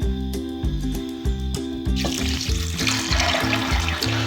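Water pours into a pot of soaked chickpeas on the stove, a bright splashing rush that starts partway through and continues steadily over a soft, rhythmic low background clatter.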